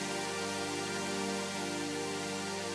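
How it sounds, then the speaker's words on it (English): A big stacked synth chord from a music production session, held steady with dense sustained harmonics and a slowly pulsing, shimmering texture, alone with no talking. "I pulled up this big chord stack that I've used in the past"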